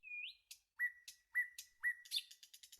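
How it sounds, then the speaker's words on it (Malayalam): Forest birds calling among tall trees near a waterfall, a series of clear rising whistles and short chirps repeating in quick succession, fairly faint and without any talk. "ഒരുപാട് കിളിയുടെ സൗണ്ട് നമുക്ക് കേൾക്കാം."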